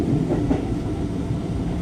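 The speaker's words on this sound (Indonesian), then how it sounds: "Kereta dipersiapkan masuk di jalur 3 stasiun Purwosari" A KRL commuter train, a JR205 set, rolls into Purwosari station, filling the space with a continuous low rumble and dense wheel noise, steady and close.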